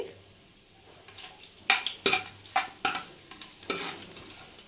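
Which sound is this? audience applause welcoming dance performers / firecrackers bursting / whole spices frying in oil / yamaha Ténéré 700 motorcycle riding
whole spices frying in oil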